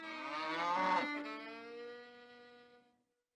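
A single long cow moo with a rich harmonic tone, swelling early then slowly fading over about three seconds, heard alone and fairly close.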